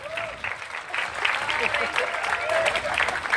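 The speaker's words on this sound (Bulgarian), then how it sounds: "Аплодисменти за тази красива дама." Audience applause during a Bulgarian comedy stage show, steady and fairly loud clapping throughout with crowd noise and a few faint voices underneath.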